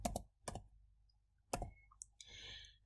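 Sparse, crisp clicks sound close up as keys are tapped on a computer keyboard, a few isolated strikes with pauses between them, then a short soft rustle at the end, with no talking.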